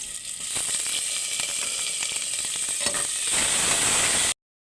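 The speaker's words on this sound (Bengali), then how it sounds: "পেঁয়াজ কুচি আর অল্প পরিমাণে আদা রসুনের পেস্ট দিয়ে ভালো করে একটু লাল লাল করে ভেজে নেব।" Chopped onion with ginger-garlic paste fries in hot oil, a dense, even sizzle with light crackles and stirring clicks throughout, swelling slightly louder just before it cuts off abruptly.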